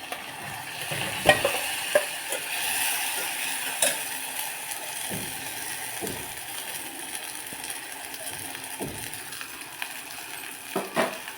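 Washed matki dal tipped onto sautéed onions in a pan and stirred, soft continuous sizzle under repeated spoon scrapes and clinks against the pan.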